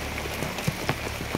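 Rain falls steadily outdoors, a dense hiss of patter broken by a few sharper nearby drop impacts, with no voices.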